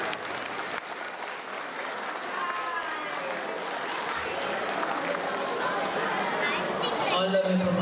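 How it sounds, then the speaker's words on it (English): Audience applause at an Ugadi honouring ceremony for a dance team, sustained clapping throughout with crowd chatter and voices mixed in. "Big applause, please"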